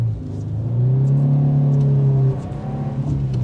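A car engine revs hard during drift practice, its tone climbing and holding as the throttle opens, then dropping back into a rumbling idle. The sound is close and loud, with no talking.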